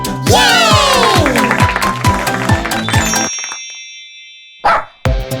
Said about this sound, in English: What sound does the dog make? The dog goes woof!